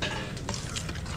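A short burst of stirring in a pot, with utensil scrapes over a soft sizzling background.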